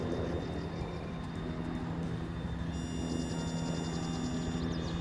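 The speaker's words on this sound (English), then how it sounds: "Chopper coming." A Blackhawk-type helicopter approaches and closes in to land in the military shooter Arma, its engine whine and rotor drone a steady, droning layer of noise that grows slightly over a few seconds, with no voices.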